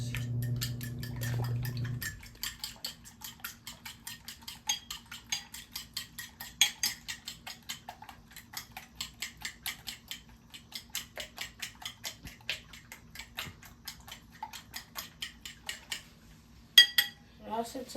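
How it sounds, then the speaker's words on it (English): Two eggs are beaten with a fork in a bowl, giving a long run of quick, rhythmic metallic taps and clicks, close and fairly faint, after a brief low hum at the start. "With your fork, you smash both of the yolks, and then you're gonna whisk."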